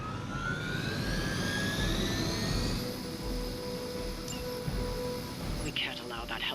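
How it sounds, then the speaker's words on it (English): Helicopter in Marvel's Midnight Suns whining and roaring with a rising turbine tone and a low rumbling wash, under a person talking. "We can't allow that helicopter to escape."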